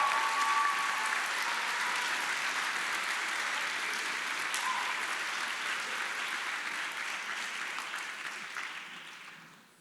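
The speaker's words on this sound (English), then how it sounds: "give a round of applause to Alex Kujacaro" Audience at a school senior awards night applauds a student's award, a dense, sustained clatter of many clapping hands at moderate distance that holds steady and then fades out at the end.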